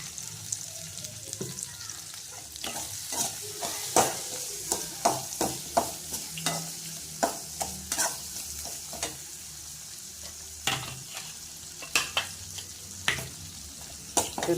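Asafoetida powder frying in hot oil in a pan, a continuous sizzle with repeated scraping strokes of a spoon, close and fairly loud, the stirring coming in an uneven rhythm.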